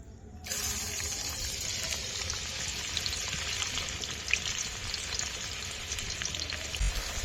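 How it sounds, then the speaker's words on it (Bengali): Chopped garlic frying lightly in oil for chilli chicken, a steady close broadband sizzle that starts abruptly after a brief quiet moment and holds evenly to the end, with no talking. "রসুনটা একটু হালকা করে ভেজে নিয়েছি"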